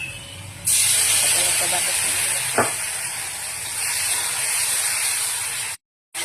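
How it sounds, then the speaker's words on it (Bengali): Loud, steady sizzling and hissing of green chilies frying in hot oil with potatoes fills the clip, with a brief clink partway through and a sudden cut near the end. "কাঁচা লঙ্কাটা ভাজা হয়ে গেছে"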